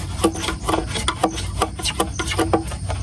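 Someone wipes a wooden surface with a cloth before varnishing, making rhythmic rubbing strokes, close and moderately loud, in quick repeated passes with no talking.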